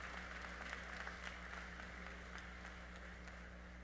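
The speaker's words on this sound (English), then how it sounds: "A round of applause for all those who are part of our community." Steady applause from a large crowd at a college commencement fills the space, a continuous patter of many hands clapping over a low hum.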